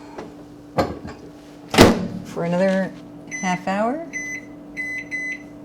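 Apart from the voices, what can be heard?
microwave oven door closing and beeping, proofing challah dough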